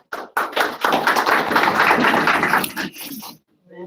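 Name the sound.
audience clapping at a conference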